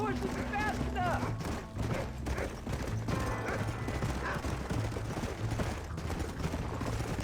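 A horse gallops with rapid clip-clop hoofbeats and an occasional whinny in Red Dead Redemption gameplay, set against a steady mechanical rumble while voices shout over the action.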